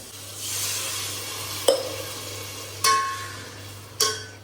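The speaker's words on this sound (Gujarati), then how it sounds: "આ બાજુ ખીચડી વઘારવાનું ચાલે" A soft sizzle of khichdi tempering hisses in a pan, punctuated by three sharp metallic clinks of a spoon against the pot.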